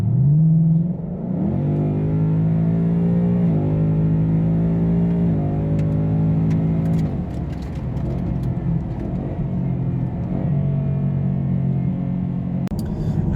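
A 2018 Mustang GT on a snowy winter road, its engine revving and shifting through several rising tones, then settling into a steady drone, loud and close with no talk.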